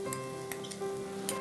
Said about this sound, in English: We'll add finely chopped onions